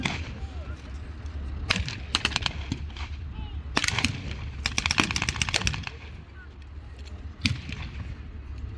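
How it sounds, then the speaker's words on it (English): A German heavy machine gun rattles in sharp bursts of rapid gunfire, several loud clusters spaced across the stretch over a rumbling battlefield background, with some voice activity mixed in. "They're obviously suffering from enfilading fire from that German machine gun."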